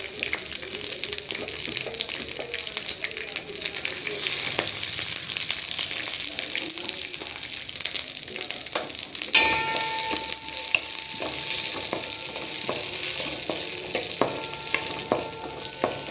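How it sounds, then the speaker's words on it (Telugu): Green chilies frying in a spoon of oil give a continuous gentle sizzle and crackle with stirring sounds, steady throughout and growing slightly brighter midway, no speech. "పచ్చిమిర్చి, వేపుకున్నాము 1 స్పూన్ ఆయిల్లో."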